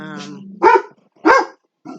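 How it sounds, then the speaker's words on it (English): Neighbor's dogs out running outside give several loud barks in separate bursts, close together, with a few short gaps between them. "Charlie, these dogs, our neighbor's dogs are out running yet Charlie."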